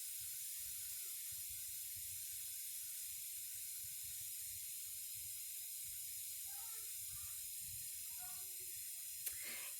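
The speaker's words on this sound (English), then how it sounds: "It's a waffle iron, and it's cooking the batter by steaming." A waffle iron steaming Belgian waffle batter as it cooks, giving a steady high hiss that runs faint and unbroken throughout, with soft low rumbling underneath.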